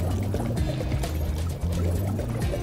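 Swimming underwater in the video game Spyro Reignited Trilogy: a steady, muffled watery gurgling and bubbling, close and continuous, with a low droning tone beneath and no speech.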